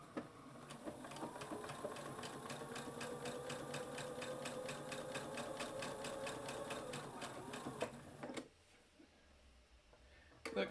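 Sewing machine stitching quilt block pieces, running in a steady fast mechanical rhythm for about eight seconds, then stopping abruptly, leaving a quiet room with a soft click at the end.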